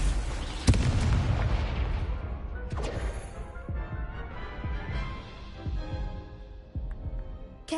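Confringo blasting spell from Hogwarts Legacy: a sharp explosive burst followed by rumbling debris and smaller cracks, with scattered thuds trailing off under game ambience.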